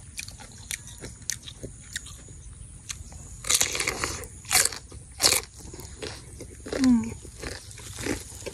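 Someone bites into crisp sour mango, giving several loud, close crunches and quieter chewing in between, with no speech.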